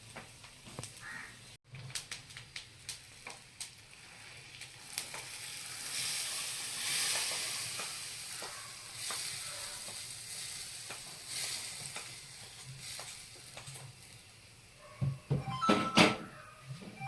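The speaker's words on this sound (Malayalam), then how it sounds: "നെയ്യിലല്ലേ വറുക്കണത്?" Ghee sizzles in a pan while frying for jackfruit payasam, a soft steady crackle under a faint background with crows cawing and a few clatters of stirring near the end.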